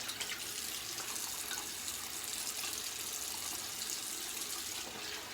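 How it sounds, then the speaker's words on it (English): Tap water runs steadily into a sink for a cold rinse after a shave, a continuous close, even splashing hiss that carries on unbroken without any talking. "So we'll get into the cold water rinse here."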